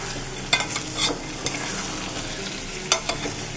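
Mutton stir-fried in a pan for a kosha curry, a continuous close sizzle with a few sharp spatula scrapes and clinks spaced irregularly, no voices.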